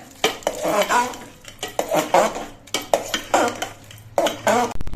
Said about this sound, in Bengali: খিচুড়িটার মধ্যে সব মশলা দিয়ে নিয়েছে মিশিয়ে নিতে হবে